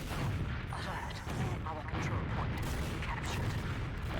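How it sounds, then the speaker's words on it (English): Rocket explosions in a competitive Team Fortress-style online match, a dense run of booming blasts and gunfire-like bursts throughout, with a commentator's voice faintly underneath. "Oh, bomb onto Kevin, immediately takes him out with 2 rockets"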